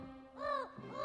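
A raven in an animated Noah's Ark film gives two loud, harsh caws in quick succession, close and alone with no talk over them.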